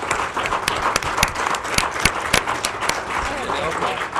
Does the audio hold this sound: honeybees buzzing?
no